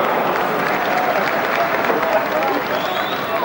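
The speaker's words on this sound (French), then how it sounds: "Et le public anglais qui applaudit" An English football stadium crowd applauding during a 1989 friendly between Arsenal and France, a broad, steady roar of distant clapping and crowd noise filling the stands, with a commentator's voice audible over it.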